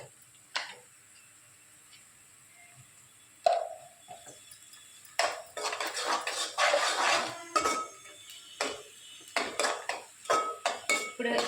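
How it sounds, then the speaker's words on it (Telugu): Raw chicken tipped into a pan of onions fried light pink with turmeric, a few loud clatters of metal cookware and utensils clinking and scraping in irregular bursts, with no talking. "ఇప్పుడు ఇందులోనే నేను చికెన్ వేసుకుంటున్నాను."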